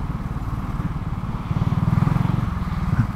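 Piaggio MP3 500 HPE three-wheeled scooter engine riding through traffic, a steady close putter that swells louder and denser midway, with rhythmic low pulses continuing throughout.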